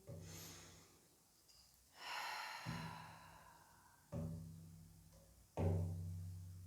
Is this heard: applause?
no